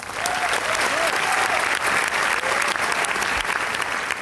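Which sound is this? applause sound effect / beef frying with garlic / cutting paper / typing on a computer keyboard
applause sound effect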